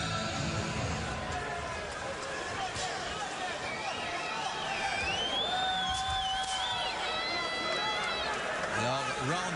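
Arena crowd at a WBC international boxing title bout at the Centre Bell roars and cheers continuously, a dense wash of voices with whoops rising above it, while a commentator talks over the noise.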